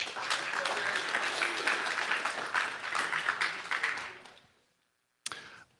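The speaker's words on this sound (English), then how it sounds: "let's clap for him anyway" People at a Scrabble tournament prize ceremony clap for an absent player. The brisk, moderate clapping lasts about four seconds and stops abruptly, then one short clap-like burst follows after a pause.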